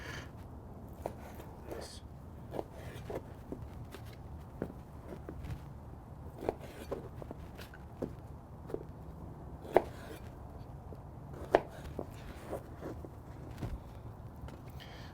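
A knife cubes beef fat and meat on a board for grinding into burger patties, giving sparse, soft irregular chops and taps over a low background hum, with a couple of sharper knocks.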